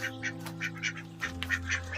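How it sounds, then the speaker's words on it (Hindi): Domestic duck quacking close by in a quick, rhythmic run of nasal quacks, roughly eight in two seconds, over a steady low engine-like hum outdoors in a hill village. "ओ मेरे बतख ने अंडे दे रखा है, डग्गू ने अंडा दे रखा है।"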